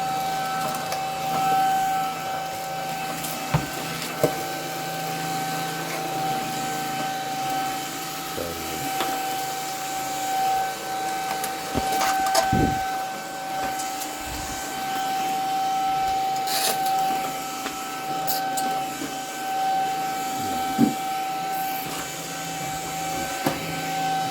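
A Buture VC90 cordless vacuum cleaner runs steadily with a constant whine and airy hiss, occasional clicks and bumps as it moves over debris and dust.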